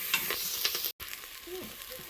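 Garlic sizzles in the hot pot of a pressure cooker for cauliflower soup, a steady close crackle broken by light stirring scrapes and a brief moment of silence near the middle.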